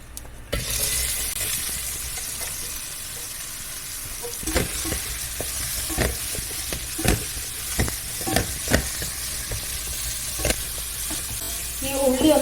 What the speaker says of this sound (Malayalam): ഇത് മൂന്ന് വലിയ ഉള്ളി മുറിച്ചത് അത് ഇടുന്നുണ്ട്